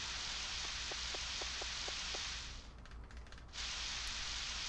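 Steady rain in the farming video game Harvest Moon 64, a soft continuous hiss of falling drops with a few faint clicks early on, alone and fairly quiet throughout.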